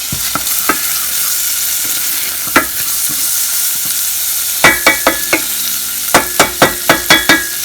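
Green beans with pepper and seasoning sautéing in a hot pan, a soft sizzle under sharp clacks of stirring and shaking, the knocks coming in quick bursts toward the end.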